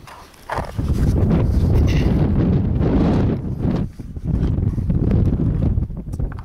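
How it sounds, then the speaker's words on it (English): Strong wind blasts across the microphone at an outdoor shooting range, roaring in heavy gusts for several seconds with brief lulls between them. "Got quite a bit of wind right now"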